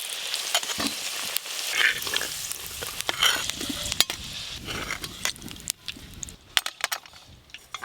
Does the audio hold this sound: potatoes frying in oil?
yes